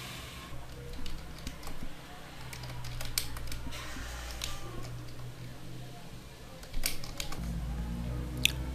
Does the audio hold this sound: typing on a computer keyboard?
yes